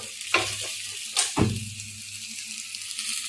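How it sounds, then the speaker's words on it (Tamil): A tempering with sautéed onions is poured into a palak spinach and green gram kadaiyal off the flame, giving a few sharp bursts of sizzling, close and fairly loud, that fade into a soft lingering hiss. "இப்போ ஃப்ளேம் ஆஃப் பண்ணிவிட்டு நம்ம தாளிப்பு கொட்டிடலாம்"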